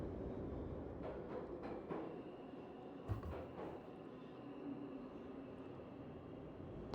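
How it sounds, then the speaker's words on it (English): Steady, deep rumble of a train passing through a subway in the video game POOLS, a continuous roar with a brief heavier thump midway, heard alone without talk. "Sounds almost like a train passing"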